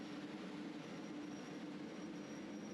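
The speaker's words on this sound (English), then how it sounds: "So this is my train just arriving onto platform 15A. It's an X2000 train, which is a high-speed tilting train" An X2000 high-speed tilting train pulls into a Swedish station platform, giving a faint, steady mechanical hum and rumble with a thin high whine held throughout, no talking.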